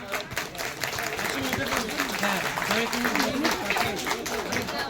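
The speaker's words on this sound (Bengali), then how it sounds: "হাততালি দিও সবাই মিলে, একটা জোরসে হাততালি দিন" Audience applause at the close of a Christmas church play, sustained crowd clapping that stays dense throughout while voices talk and call out over it.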